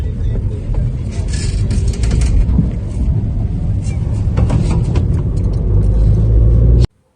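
A car drives at night on a foggy, cold road, heard from inside the cabin as a loud, continuous road rumble with steady engine noise, ending abruptly.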